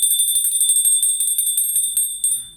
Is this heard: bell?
yes